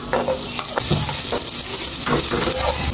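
Ginger browning in hot oil for binagoong talong, a loud continuous sizzle broken by repeated stirring scrapes in a loose rhythm, close up and without speech.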